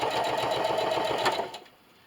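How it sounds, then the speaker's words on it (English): A sewing machine runs steadily, top stitching a reversible placemat with a straight stitch, its motor humming close and even for about a second and a half before stopping abruptly. "at my sewing machine, and now I'm just going to top stitch our placemat"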